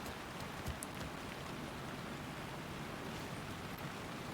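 Rain in the horror game Alan Wake 2 forms a soft, continuous hiss of falling water, quiet and unbroken, with a few faint taps near the start.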